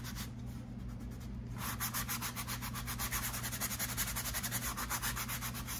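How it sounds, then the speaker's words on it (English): A cheap sanding block rubs over dried spackle on a wall, starting slowly, then settling into fast, steady back-and-forth scraping strokes, close and alone without any talk. "going to just sand down the spackle, make it nice and smooth, or as smooth as I can."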